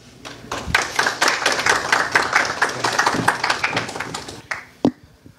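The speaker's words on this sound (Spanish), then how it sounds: "lo recibimos con un gran aplauso" A small audience claps to welcome a speaker at a communications week talk, a brisk patter of distinct handclaps that starts abruptly, holds steady, then thins to a few final claps before fading out.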